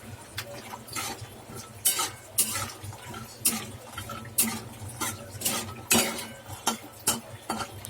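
A spatula scrapes and clinks against a pan in an irregular rhythm as almonds, dry fruits and coconut are dry-roasted over medium heat, close and moderately quiet, with a faint steady hum underneath.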